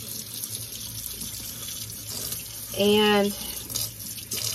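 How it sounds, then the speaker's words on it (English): A water tap runs steadily, rinsing milk off goat-milking equipment in a sink, with a brief squeaky rising tone partway through and a single spoken word. "I rinse all of this milk off."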